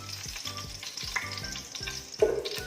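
Ghee and coconut oil heating in a pan for prawn biryani, a steady close sizzle with light crackles and a sharper spit near the end, no voices.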